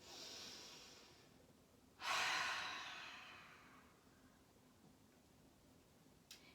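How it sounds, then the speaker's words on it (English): A deep breath taken during a children's yoga session after a shake-out wiggle: a soft, airy inhale and exhale that swells suddenly and fades slowly over a couple of seconds, close and quiet, with a faint tick near the end. "Take a big breath."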